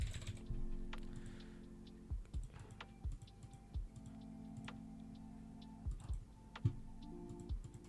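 Soft keyboard typing in scattered short bursts, quiet and close, with a steady low hum of a computer setup in the background.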